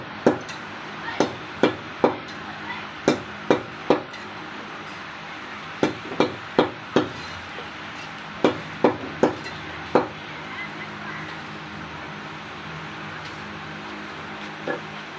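Sharp knife chops on a board as cleaned goat intestines are cut into small pieces, about a dozen close, crisp strikes in loose clusters with pauses between.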